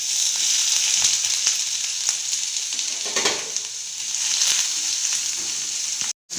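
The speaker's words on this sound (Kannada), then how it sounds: "ಕಾದ್ಮೇಲೆ ಈರುಳ್ಳಿ ಹಾಕ್ಕೋತಾ ಇದ್ದೀನಿ" Onions frying in hot oil in a kadai, a steady dense sizzle with soft crackles and a brief stir scrape midway, close and loud throughout, ending in a sudden cut.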